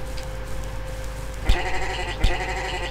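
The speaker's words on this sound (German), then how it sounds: "Ein Schaf." Sheep in the Minecraft-clone game MineClone2 bleat twice in short, bright calls about a second apart, over a faint steady background hum.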